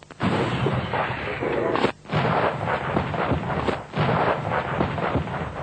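Field artillery cannon firing on a range, with repeated loud, booming blasts and a sharp break between shots, close and dominant with little else audible.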